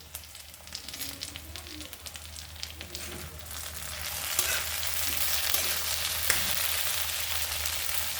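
Eggplant curry fries in a pan with chilli powder, a steady broadband sizzle that grows louder partway through, with occasional stirring scrapes and no talking.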